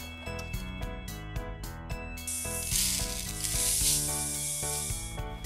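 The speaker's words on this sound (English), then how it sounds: "Let's put some aqua gel into the saucepan." Aqua gel granules pour into a toy saucepan with a steady hissing rush that lasts a few seconds, under continuous upbeat background music.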